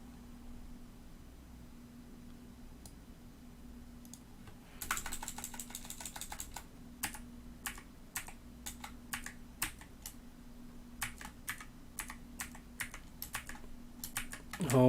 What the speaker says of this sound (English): typing is so slow